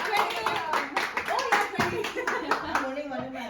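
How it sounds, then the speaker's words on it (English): A few people clap their hands in uneven bursts at a birthday gathering at home, with voices talking and exclaiming over the claps. "Clap."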